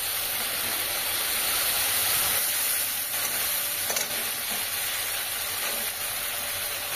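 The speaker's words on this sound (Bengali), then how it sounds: "এবার ভালো করে আরেকটু কষিয়ে নেব।" Fish curry masala, made with a paste of poppy seed and mustard and two whole green chillies, sizzling and frying steadily in a pan, with a continuous close hiss and occasional stirring scrapes and no voices.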